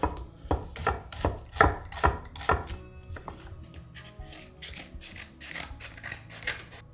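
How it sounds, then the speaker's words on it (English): A knife chops an onion on a cutting board in quick, close, crisp strokes. The strokes come fast at first, then thin out into lighter, scattered taps. "The onion really doesn't care if it's like nicely chopped or coarsely."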